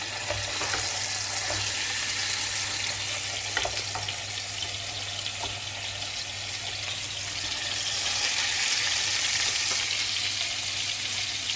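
Ribeye steak searing over full heat, a loud, steady, broadband sizzle that holds for several seconds and swells slightly toward the end, over a low background hum.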